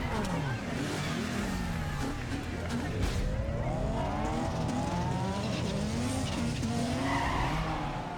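A Toyota Corolla street race in Need for Speed Underground 2, with tires skidding and squealing in long sweeping arcs and engines revving loudly and continuously throughout.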